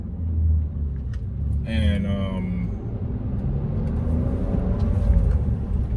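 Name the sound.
BMW E39 car engine while driving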